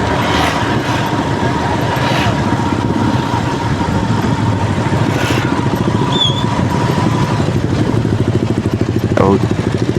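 Byson motorcycle engine while riding through Sukamulya Sematang Borang, a loud steady pulsing engine drone with road and wind noise throughout.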